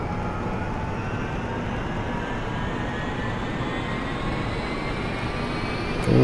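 A UH-1 Huey helicopter turbine spins up in DCS, a loud continuous engine roar with a slowly rising whine that climbs steadily in pitch, close and unbroken, with a sharper thump at the very end.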